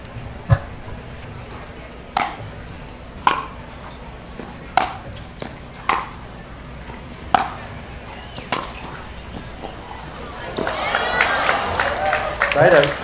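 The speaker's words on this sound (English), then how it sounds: "This little drop of applause from the crowds." A small crowd at a professional pickleball tournament claps briefly after a rally, a short scattered patter of applause with some sharp paddle-like pops spaced through the clip, swelling slightly near the end.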